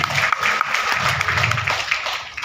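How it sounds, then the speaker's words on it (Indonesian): An audience at a school program talk applauds with dense, even clapping for a couple of seconds at close range. "Tepuk tangan untuk kita semua."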